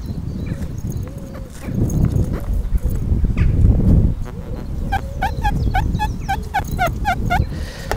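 A metal detector's speaker, running without a headphone lead, emits a fast series of high, squeaky chirping tones in the second half, over steady outdoor background noise near trees.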